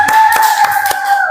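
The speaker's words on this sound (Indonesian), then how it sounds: "Tepuk tangan." Several sharp hand claps, about four evenly spaced, loud and close over a steady tonal hum in a classroom.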